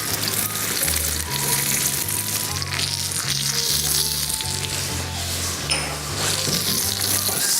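Butter and spring onion sizzle in a pan for pasta, a steady frying hiss running throughout with low humming tones underneath and no talking.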